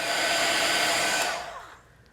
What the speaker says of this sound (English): But now I'm going to dry it with my heat tool.